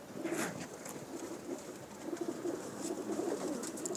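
Pigeons coo softly and repeatedly at a loft, the low throaty calls rolling on steadily at moderate distance over a constant outdoor background hiss, with no talking.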